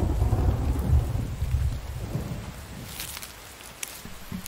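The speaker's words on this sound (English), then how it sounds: "Hopefully the storm blows over." A thunderstorm in the survival game The Infected: a heavy, low rumble of thunder rolls and fades over a constant wash of rain, with scattered drops pattering nearby.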